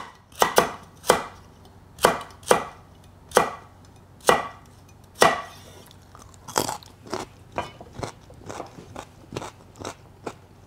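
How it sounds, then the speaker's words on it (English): A knife slices food on the bias against a cutting board in a kitchen prep setting, giving close, crisp, evenly spaced chops that come slower and louder at first, then quicker and lighter, with no talking. "So we would just start cutting on the bias"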